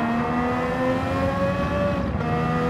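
Honda race car in a racing video game, pushed to full throttle: a loud, steady engine whine holding a high-revving drone throughout, with a brief dip near the end and no voices.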